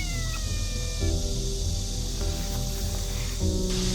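A cat meows over a steady background of music or ambient tones, a few drawn-out, tonal calls close and fairly loud.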